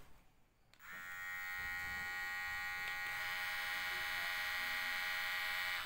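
A Kemei 5027 electric hair clipper switches on after a brief quiet moment and runs at about 5500 RPM with a steady, high-pitched mechanical buzz that holds constant to the end.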